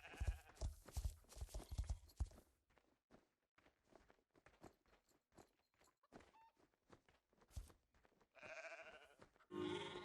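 Sheep bleat in the Star Stable Online horse-riding game, one wavering call near the end after a stretch of quick clopping steps and clicks, all faint.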